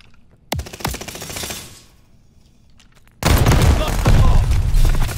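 Machine pistol fire in Call of Duty Vanguard, a sharp shot and a brief rattling burst, then a quieter lull before a loud, sustained stretch of dense rapid gunfire and clatter to the end.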